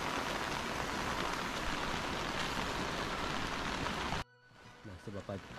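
Heavy rain pours down in a village, a loud, dense steady hiss lasting about four seconds before cutting off abruptly, followed by quieter sounds and a voice.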